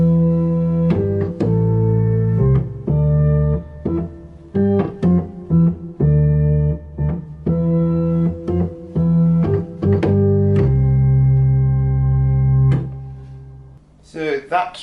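Church organ plays a repeated phrase of the hymn tune Abbot's Leigh, a string of held chords with distinct breaks between them, ending on a long sustained chord, loud and close.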